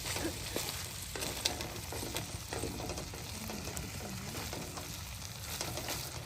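Corned beef and fried rice frying over a charcoal fire at an overnight campsite, giving a steady close sizzle with scraping and stirring throughout, with no voices.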